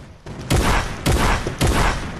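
Three loud, close video game gunshots in an even rhythm, each a sharp blast with a short decaying tail, with no talking.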